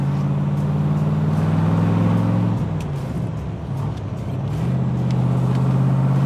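A 1967 Corvette convertible drives along with a steady, close engine drone that briefly dips and shifts pitch midway, like a gear change, before settling into a smooth cruise.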